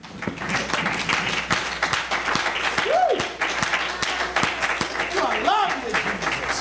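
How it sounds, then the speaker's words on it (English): A church congregation clapping at a worship service, a steady wash of many hands with voices speaking over it and brief vocal exclamations. "Clap unto the Lord one more time"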